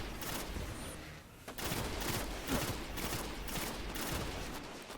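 Fusion rifle fire in the video game Destiny: House of Wolves: dense, continuous bursts of energy-weapon shots in repeated surges, loud and close, with no talk over them.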